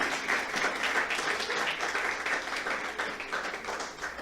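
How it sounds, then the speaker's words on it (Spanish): Worshippers at an evangelical church service break into hearty applause, a loud, continuous rush of clapping hands that fills the room steadily from start to finish. "Aplauso para el Señor."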